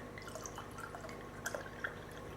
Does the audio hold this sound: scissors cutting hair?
no